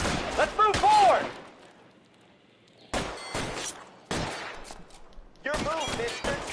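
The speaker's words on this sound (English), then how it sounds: "It's a machine gun." Bursts of machine gun fire in the crime video game L.A. Noire, three separate loud volleys spread across several seconds, with a shouting voice near the start and quieter gaps between.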